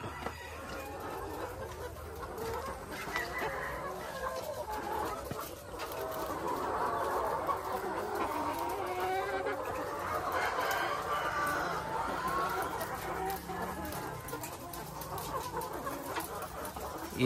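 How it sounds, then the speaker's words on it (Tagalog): Dekalb White layer hens clucking steadily inside a layer building, a dense overlapping flock chorus at moderate level throughout with no voices. "Ito po yung mga bagong manok. Layer building number 2. Lahat po dito mga decal white."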